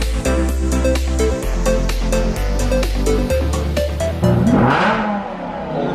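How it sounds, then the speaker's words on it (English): A Lamborghini revs hard and accelerates through several quick gear changes in a race, its loud, sustained engine roar rising in pitch and then briefly dipping between shifts. "We're gonna be doing a Lamborghini versus a Lamborghini race."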